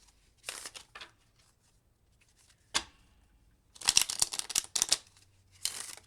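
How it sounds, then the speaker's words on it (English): A deck of playing cards is shuffled close up in several quick riffling bursts separated by brief pauses, with soft handling clicks in between. "So the first thing I would do is roll to see how many times I'm going to shuffle."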